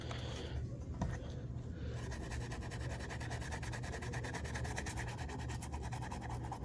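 A cloth scrubs an N64 game cartridge clean with 91% rubbing alcohol, giving steady, close, soft rhythmic rubbing that runs throughout with no talk.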